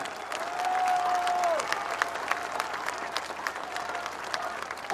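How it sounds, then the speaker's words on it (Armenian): Audience applause at an Armenian political gathering in support of Artsakh, a steady crowd of clapping hands filling the room at a constant level, with a brief whistle-like tone near the start and no speech over it. "հիմա մի հատ բարձր ծափարություններով ողջունենք Արցախին ավելի բարձր"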